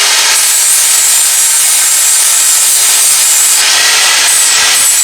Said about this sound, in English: will be to just get the angle grinder and grind away these areas